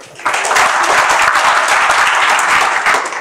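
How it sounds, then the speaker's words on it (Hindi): Workshop audience applauding hard in a hall, a dense burst of many hands that starts abruptly after a brief quiet moment and stays loud and steady throughout, with no talk over it. "इनके लिए खूब जोरदार तालियां बजाइए आप लोग।"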